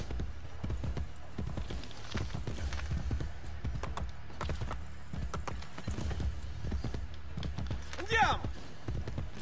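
Horse hooves clip-clop steadily on ground in Assassin's Creed Brotherhood, a close, rhythmic patter running throughout with background ambience and a brief whinny near the end.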